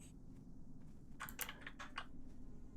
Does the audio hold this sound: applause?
no